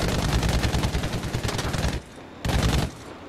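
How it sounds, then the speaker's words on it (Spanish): Aircraft gunfire in Battlefield V roars out in two sustained bursts of rapid, dense shots, the first about two seconds long and the second shorter after a brief pause, loud and with no talk. "Frenamos para poder empezar a hacer los disparos."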